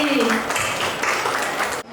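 Audience clapping at a Deusi gathering after a ceremonial lamp lighting, a dense burst of applause at close range that carries through the short clip before cutting off abruptly.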